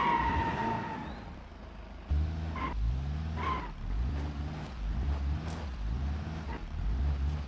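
A police car siren in the BeamNG.drive driving game during a chase of a Polonez, with repeated rising and falling wails over loud engine and skidding noise and no talk.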